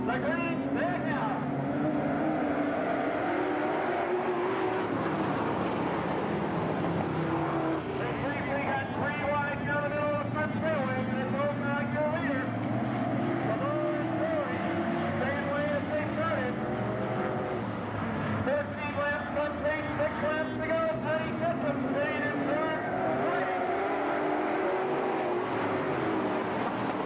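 Late model race cars run a heat race on a track in 1988 Wilmot, giving a continuous roar of engines that rises and falls as cars pass, with a voice calling the race over it.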